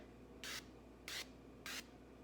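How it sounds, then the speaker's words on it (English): Three short hissing bursts of cooking spray onto a cake pan, evenly spaced, close and fairly loud against a quiet background. "I'm going to first off spray this pan right here"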